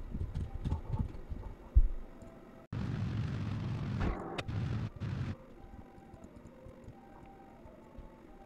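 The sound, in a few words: explosions during re-entry in Kerbal Space Program video game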